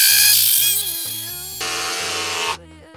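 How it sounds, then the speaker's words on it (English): An SDS hammer drill with a concrete bit bores into concrete behind a pergola post, a loud, rapid rattling hammer with a high whine, pulsing in short bursts before winding down near the end. "We come along with our concrete drill bit on our SDS"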